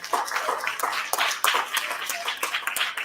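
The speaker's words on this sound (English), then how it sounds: "A round of applause for our speakers again." A small audience claps for the speakers at a 2022 summit breakfast; scattered, uneven handclaps from a few people, fairly close, with no voices over them.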